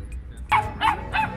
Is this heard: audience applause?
no